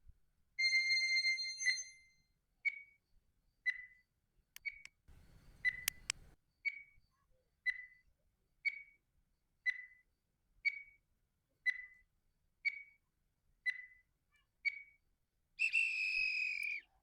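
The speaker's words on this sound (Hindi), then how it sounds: "मैं आप लोग के लिए टाइमर लगा दे रहा हूँ।" An electronic quiz countdown timer ticks off about a dozen evenly spaced, clear high beeps, roughly one per second, bracketed by a longer tone at the start and a buzzing alarm at the end, with no talking.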